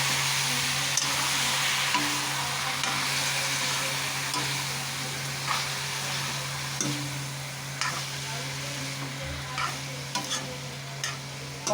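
Jackfruit, boiled first in a pressure cooker, fries in a pan under a constant loud sizzle while a spoon stirs and scrapes repeatedly against the metal, with a steady low hum running beneath; no talking.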